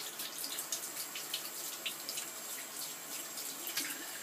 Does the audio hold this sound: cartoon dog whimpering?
no